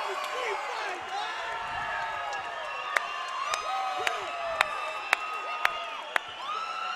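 A boxing arena crowd cheers and whoops after a TKO stoppage at a Legacy Boxing Promotions event, a steady roar of voices with scattered sharp claps and shouts cutting through, while an announcer talks over it.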